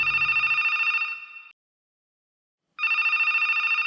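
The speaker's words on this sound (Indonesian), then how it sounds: "Hingga 5 menit kemudian, telepon kembali berbunyi." A telephone at a night radio station rings in two loud, steady bursts of electronic trilling, separated by more than a second of silence, with no voices.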